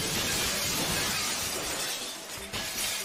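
Glass shattering in a realistic Minecraft mod, a loud, dense sustained crash of breaking panes with a brief renewed burst near the end, heard alone without talk.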